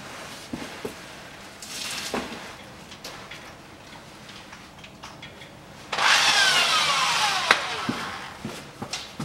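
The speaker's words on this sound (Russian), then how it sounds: "Нижний сайлентблок я дрелью сейчас ослаблю." A power drill whirs steadily for a few seconds, drilling into the rubber of a lower rear suspension bushing on a Toyota Harrier, after scattered clicks and knocks of handling tools nearby.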